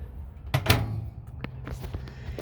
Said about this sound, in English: to open the door, you open it like a normal microwave